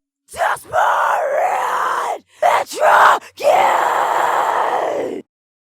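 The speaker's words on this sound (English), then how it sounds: "I have here a screaming vocal track" A screamed vocal track, harsh distorted yells in three long bursts with short gaps, loud and close, alone without accompaniment.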